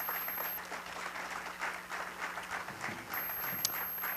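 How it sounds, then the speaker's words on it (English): Outdoor opening ceremony crowd at a lakeside festival giving a round of applause for county officials, moderately distant, steady clapping over a faint hum. "Could we give them a round of applause"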